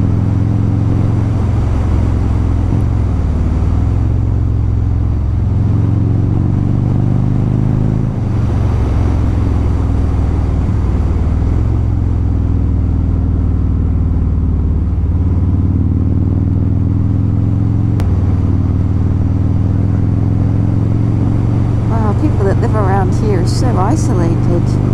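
A motorbike runs along a New Zealand highway with a loud, constant engine drone. There are small shifts in pitch as it changes speed, wind rumble underneath, and a brief clatter near the end.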